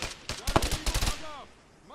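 Gunfire in the video game ARMA 3: a close, loud burst of rapid shots lasting under a second, followed by a fading echo and a quiet tail.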